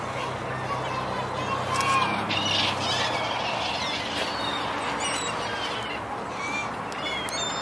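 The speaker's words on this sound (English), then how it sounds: "There was a cache and there was lots of birds, so we're taking pictures of them." A flock of birds and geese gathered near a geocache site in Redding squawk and honk in scattered calls at a moderate distance, over a windy outdoor background with people talking.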